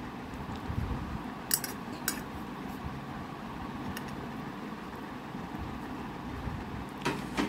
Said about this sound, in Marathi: आता आपण या मिरच्या छानशा यात मिक्स करून घेऊ.